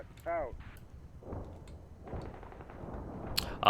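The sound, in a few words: artillery fire in Combat Mission Black Sea video game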